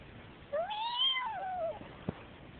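A single drawn-out cat meow rises and falls, close and clear, followed by a brief soft tap.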